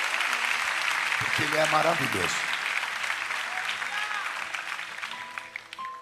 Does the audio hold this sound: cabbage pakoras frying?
no